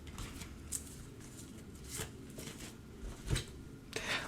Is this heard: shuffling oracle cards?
yes